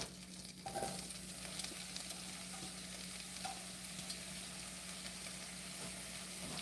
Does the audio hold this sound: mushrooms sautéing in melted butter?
yes